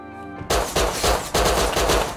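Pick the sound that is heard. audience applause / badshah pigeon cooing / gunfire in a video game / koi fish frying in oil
gunfire in a video game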